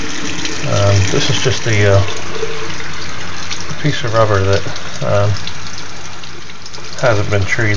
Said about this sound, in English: I'm going to turn the water on the sink.